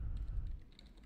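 Rapid keystrokes on a computer keyboard, a steady run of close, light clicks over a low background hum while someone writes code.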